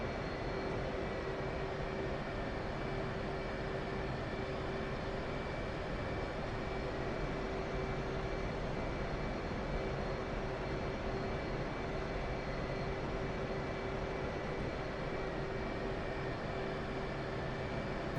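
An F/A-18C Hornet jet taxis in the DCS flight simulator game, giving a steady, unbroken engine roar with a constant whine on top, with no voices.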